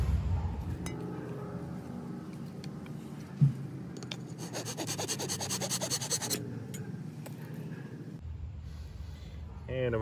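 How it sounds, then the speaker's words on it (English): A hand saw rasping back and forth through a thick wooden hand drill spindle, with a steady rhythmic sawing stretch in the middle and small clinks and rubbing around it, close up. "this part here that's really too thick for a hand drill spindle, we'll cut it off"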